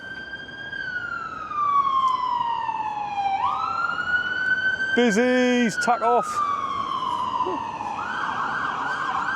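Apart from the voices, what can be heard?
ambulance siren passing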